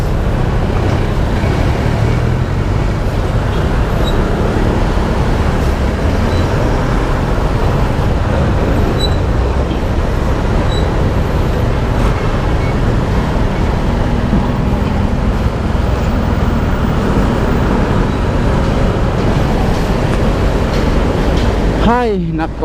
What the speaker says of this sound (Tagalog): Grabe yung traffic talaga dito.